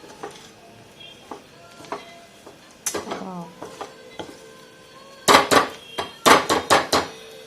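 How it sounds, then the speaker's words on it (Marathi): Spoon scraping and knocking against a metal pan while brinjal masala sautés in oil, scattered clinks early then a rapid cluster of loud metallic taps near the end, close and with no talking. "हा सुद्धा छान तेलामध्ये परतून घ्यायचा हे परतवत असताना सतत हलवायचं"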